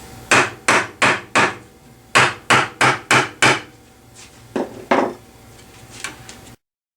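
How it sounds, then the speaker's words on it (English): A dead blow hammer strikes repeatedly with dull, heavy thuds, first in two quick groups of four, then a few scattered softer blows before silence. "Dead blow hammer."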